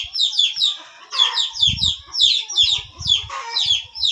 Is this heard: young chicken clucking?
yes